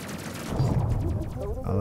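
Ship guns firing in the space video game Space Crew, a rapid stream of low, rumbling shots lasting under two seconds, with talk mixed in over the gunfire.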